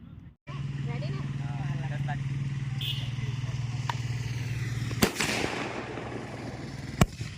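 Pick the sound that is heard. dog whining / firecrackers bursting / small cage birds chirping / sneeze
firecrackers bursting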